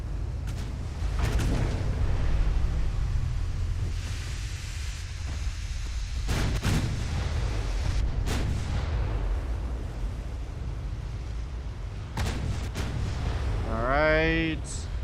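Naval guns firing in Ultimate Admiral: Dreadnoughts, several heavy booming blasts spaced irregularly over a constant rumbling sea-battle background, with a voice speaking at moments.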